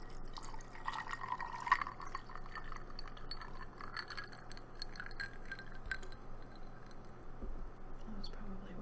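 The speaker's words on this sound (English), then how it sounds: "I do like the sound of pouring water, pouring a drink." Water is poured into a glass, a quiet, steady trickling and filling with faint clinks, heard up close and alone over several seconds.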